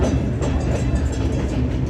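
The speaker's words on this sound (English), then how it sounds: "There goes the train" A train rumbles past nearby in the Peruvian jungle, a loud continuous roar with a rattling, rhythmic clatter throughout.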